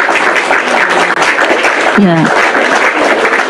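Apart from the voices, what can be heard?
audience applause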